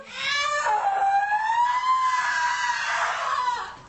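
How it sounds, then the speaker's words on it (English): A woman screams during a strip search by sheriff's deputies in a Stark County, Ohio jail, one loud, sustained, wavering cry lasting several seconds. "she begins to scream"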